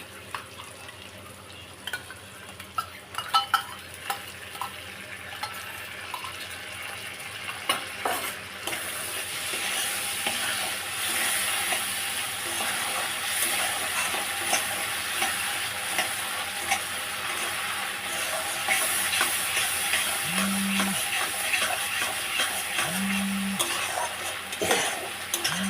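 Prawns with spices and sour yogurt stirred in a pan over lowered gas, a continuous soft sizzle with scraping stirs, quieter at first and building steadily, with a few faint tones late on.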